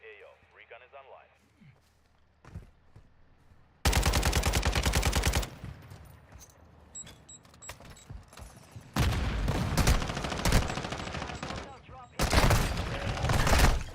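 Bursts of RPK machine gun fire in a shooter video game come in loud, dense rattling volleys separated by quieter stretches, with voice chatter faintly underneath.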